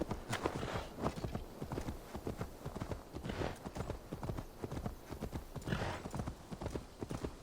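Horse hooves clop in a steady rapid rhythm while riding in the video game Assassin's Creed Valhalla, loud and continuous throughout with a faint game ambience behind and no speech.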